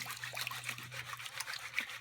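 Water splashing and dripping during gold panning with a Gold Claw tool indoors over a carpet, a quick irregular run of small splashes and drips, close and fairly soft, steady for a couple of seconds.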